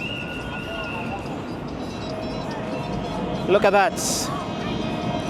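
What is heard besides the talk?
train passing at rail crossing in Nairobi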